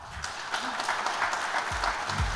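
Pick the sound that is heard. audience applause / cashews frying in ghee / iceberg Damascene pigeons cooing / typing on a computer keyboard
audience applause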